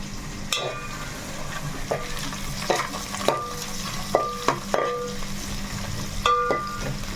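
Chicken frying in a pan over the stove gives a steady close sizzle, with repeated sharp clinks and scrapes as the pieces are stirred with a metal spoon.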